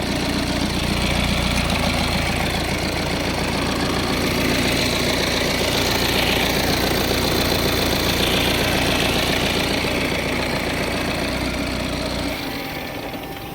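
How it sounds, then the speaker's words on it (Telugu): A 2023 Tata Altroz 1.5L diesel car engine idles steadily and close up, a low knocking rumble that holds constant for the whole stretch before easing slightly at the end. "ఫ్రెండ్స్ ఇంజన్లో ఎటువంటి నాయిస్ అయితే లేదు"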